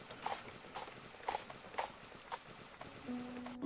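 Horse hooves clip-clopping at a steady walking pace on a road, a series of distinct moderately close hoof strikes about every half second, with a brief tonal sound near the end.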